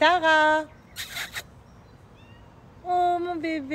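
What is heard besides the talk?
cat meowing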